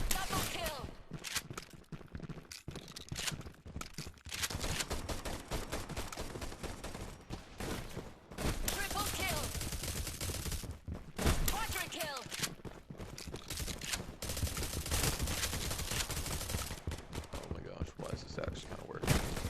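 Continuous video-game gunfire with shotguns in a frantic rush-style battle, dense overlapping blasts and clatter running nearly nonstop at a steady loud level, with brief dips, and speech likely mixed underneath.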